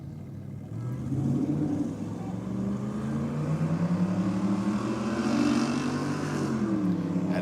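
Drag racing cars at night on Sydney Dragway accelerate down the strip, a sustained engine roar building and shifting pitch as they run, heard from some distance without talk.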